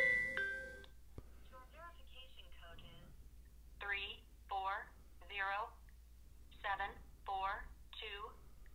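An Android phone rings with an incoming verification call, a repeating electronic ringtone in short patterned bursts, close and clear, after a brief electronic tone at the start.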